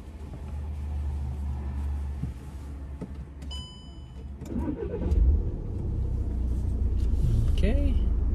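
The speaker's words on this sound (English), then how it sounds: "Okay, starting the car, buckled up." A car engine starts and idles with a steady low rumble before an Oakville G road test. A short electronic chime sounds partway through, and people talk over the engine throughout.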